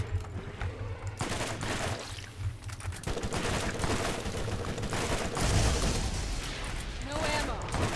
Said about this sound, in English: Keep moving while you're shooting.